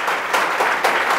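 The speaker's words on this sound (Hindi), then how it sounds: "पहले एक बार ताली मारिए सब।" Students in a tenth-grade biology class applaud together, a loud, fairly close burst of many hands clapping at an uneven rhythm, with swells of louder clapping.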